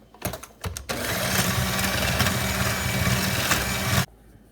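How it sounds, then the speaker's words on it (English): A stand mixer whirs steadily through chocolate chip cookie dough after vanilla goes in, a loud continuous motor drone with a rhythmic churning texture, starting after a few brief knocks and cutting off abruptly near the end. "Add your vanilla and continue to mix your dough."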